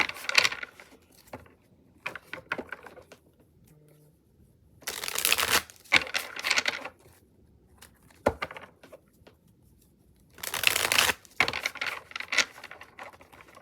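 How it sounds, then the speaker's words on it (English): Several bursts of tarot cards being shuffled, each a crisp riffling flutter lasting about a second, separated by quieter pauses with light handling sounds. "I like to shuffle on camera so that you guys know that I am shuffling"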